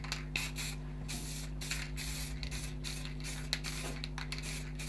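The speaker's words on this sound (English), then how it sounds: "we're just going to spray on camera" Spray paint hisses steadily onto plywood being shaped into a curved crook, in close short bursts with brief pauses.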